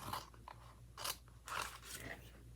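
Scissors snipping through scored paper card for a handmade four-pocket card, a few short crisp cuts in irregular bursts, close and quiet against a faint low hum.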